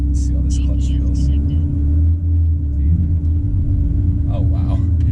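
A BMW M2 CS engine idles with a steady low rumble throughout, close by, while people talk over it.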